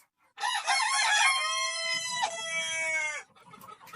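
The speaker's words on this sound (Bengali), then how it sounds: "মুরগির চিৎকারে কথা বলা যায় না, কি একটা অবস্থা।" A loud, close crow from a Fawmi layer flock on a poultry farm, a single drawn-out call of about three seconds with faint clucking underneath toward the end.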